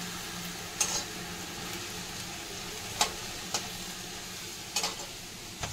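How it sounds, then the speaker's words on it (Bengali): Potatoes fry in a pan with a steady sizzle, broken by a few sharp clinks and scrapes of stirring; no voices. "অল্প অল্প আলু দিয়ে ভাজতে হবে"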